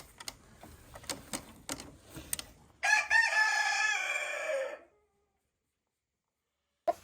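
Poultry in a goose pen calling: a few short clucks and scratchy noises, then a loud, drawn-out crowing-like call lasting about two seconds, followed by silence and a brief final squawk.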